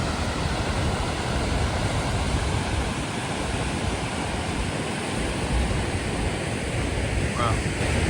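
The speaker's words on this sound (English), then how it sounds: "Definitely the prettiest waterfall in Iceland for my money." Roaring Icelandic waterfall, a loud, steady broadband rush of falling water with wind buffeting the microphone, holding constant and unbroken throughout.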